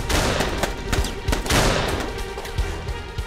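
Sustained gunfire rattles loudly in a dramatized retelling of a 1920s Seoul shootout, with dense overlapping shots and sharp cracks repeating throughout, alone with no talk.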